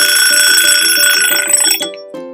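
An egg timer alarm rings loud and close, a steady metallic trill with a rapid pulsing rhythm for about two seconds before it cuts off, then a brief final ring.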